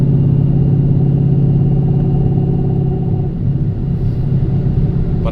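Whipple-supercharged 2016 Ford Mustang GT with a T56 Magnum XL manual swap, cruising: a steady, loud low engine drone with road rumble throughout, easing slightly partway.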